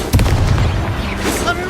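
Fiery Confringo spell blasts in the Hogwarts Legacy video game: a sharp, booming burst near the start, followed by a rumbling, crackling tail, with a faint voice in the background.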